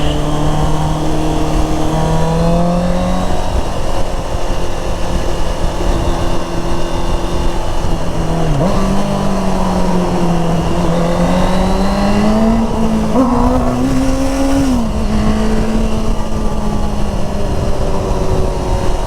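A Honda CBR650R motorcycle revs hard and accelerates in a long, loud pull, its engine note rising and shifting through gears for nearly twenty seconds with no voices over it.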